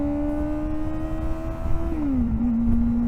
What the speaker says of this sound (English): at least you can hear the slow wind out here